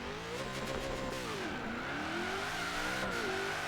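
Video-game Mustang Cobra drag car from Forza Horizon 3, held hard on the brakes, its engine droning steadily with a shifting, wavering pitch. The sound is loud, close and continuous, with no voices over it.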